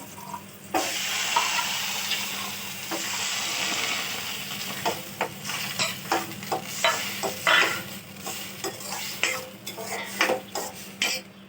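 Boiled chickpeas tipped into a pan of turmeric-spiced oil sizzle steadily while a spoon stirs and scrapes against the metal in repeated clattering strokes, close and busy.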